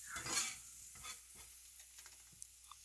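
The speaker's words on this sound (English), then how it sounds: "Give my mushrooms nice contact with the skillet." Mushrooms fry in a hot skillet, with a soft sizzle and a burst of scraping as they are stirred and shifted at the start, then a quieter steady hiss with a few light clicks from the pan.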